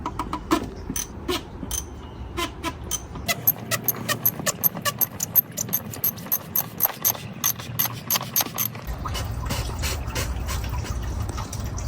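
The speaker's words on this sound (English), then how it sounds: "now we're gonna open up the housing for the fuel filter and pull out the old one and get in with the new" Mechanical clicking and ratcheting while the fuel filter housing is opened on a RAM 6.7 Cummins diesel truck, a fast run of sharp close clicks with brief pauses, then a steadier low rumble.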